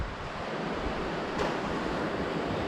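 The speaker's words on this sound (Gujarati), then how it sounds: "આ બધો દરિયો છે" Sea waves surge steadily against the coast near a temple standing in the sea by Vathera village, a continuous close roar with wind in the background.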